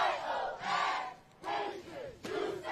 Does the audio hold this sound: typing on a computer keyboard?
no